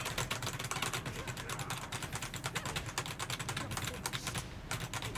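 Mechanical keyboard keys clatter in a rapid, continuous stream of close, sharp clicks while someone plays Tekken 8 on a PC, with brief gaps between bursts of presses.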